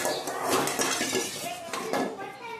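Roasted farali flour being emptied from a pan into a large vessel, with a cluster of close metallic clinks and scraping rattles of utensil against metal over a soft continuous hiss.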